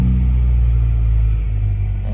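A Honda car engine with a P28 head and Hondata S300 rumbles low and steady, then catches and settles into idle near the end.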